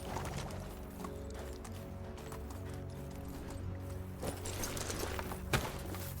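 A horse's hooves clip-clop faintly and a little distant, in a loose, uneven rhythm under a low steady hum, with one sharper knock near the end.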